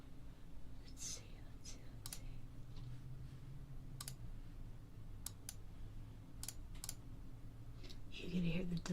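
A computer mouse clicks in sharp, isolated taps spaced irregularly over a steady quiet hiss, close and crisp, with a faint voice stirring near the end.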